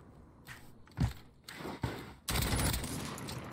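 Bursts of gunfire in the competitive online shooter Arena On, a few separate shots followed by a sustained louder volley, heard without speech.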